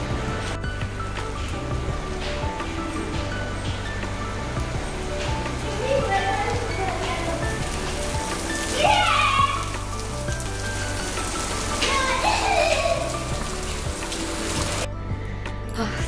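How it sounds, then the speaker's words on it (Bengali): Rain falls steadily on a rooftop, a constant close hiss of drops on the surface that runs throughout, with a couple of brief sliding sounds rising above it midway. "বৃষ্টি শুরু হয়ে গেছে"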